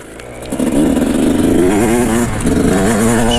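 Motorcycle with a freshly rebuilt top end after a broken piston, ridden during running-in: a close, loud engine climbs from a quieter start into steady revving with a buzzing, rising and falling pitch.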